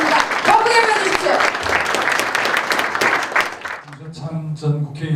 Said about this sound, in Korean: 박수가 좀 작으신 것 같습니다. 더 크게 보여주십시오.